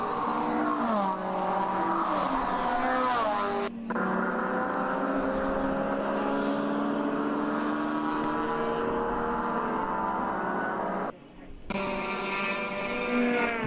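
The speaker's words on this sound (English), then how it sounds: "You hear these cars screaming as they come up the hill." Endurance race cars in a ChampCar Endurance Series race at Watkins Glen scream up a hill. Loud, sustained high-revving engine notes rise and shift in pitch, with one brief dip before the roar resumes.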